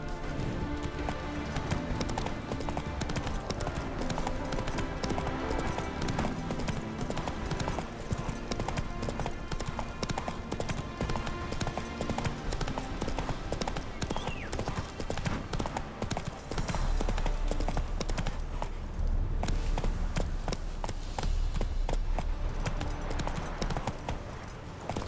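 Hooves clip-clop steadily at a gallop while riding a horse in The Witcher 3, the rhythmic beats running continuously under a dense bed of game music.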